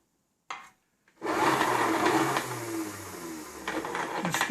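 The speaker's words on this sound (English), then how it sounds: "We need to make sure we try to clean out the grinder." An electric meat grinder whirs loudly and steadily after a brief knock, running continuously at close range while being cleaned out after making country sausage.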